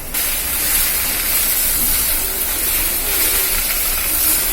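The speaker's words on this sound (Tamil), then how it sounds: "நம்ம இதில் உப்பு போட்டு வதக்கணும்ப்பா" Okra sliced for a children's stir-fry hisses steadily in a hot pan as salt goes in, a continuous close, fairly loud sizzle with no pauses and no voices.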